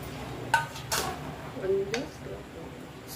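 A spoon scraping and clinking against a pot while semolina (rava) is stirred for kichadi, a few scattered metallic taps and scrapes, fairly quiet, with a voice talking over them.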